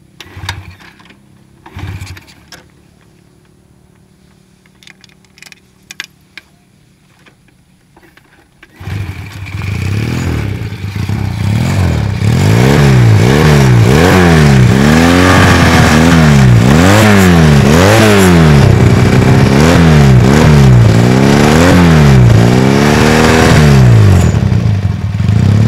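A modified two-cylinder motorcycle engine, an underbone fitted with a Satria F cooler, sits quietly before starting and then roars into a loud, close idle with repeated sharp revs that rise and fall in a steady rhythm.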